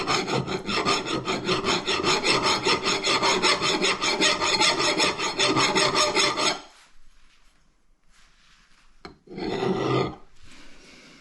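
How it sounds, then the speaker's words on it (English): A hand file rasps rhythmically against a metal part of an air-cooled Porsche 912E/914 Type-4 engine, with fast, even strokes for about six seconds, then quiet, then a brief final burst of filing, close and loud. "So I'm going to take a file to that and file that down."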